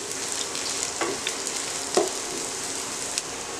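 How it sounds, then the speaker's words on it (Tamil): Cumin seeds sizzle in hot oil in a pan for tomato kulambu, a dense steady frying hiss punctuated by light spoon scrapes and taps as they are stirred. "சீரகம் போட்ட உடனே நல்லா கிளறி விட்டுக்கணும்"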